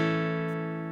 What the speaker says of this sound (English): instead of playing a proper bar chord where you bar everything,